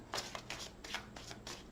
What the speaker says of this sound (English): Off the top of the deck, 2 more shuffles.